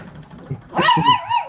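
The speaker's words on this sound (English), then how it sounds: "This puppy's amazing." A puppy gives a single high, whining bark-yip up close, brief and fairly loud, after a moment of quiet.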